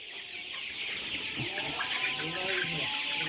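31-day-old colour-breed chickens cluck softly and continuously over a steady background hum, with several birds murmuring close by.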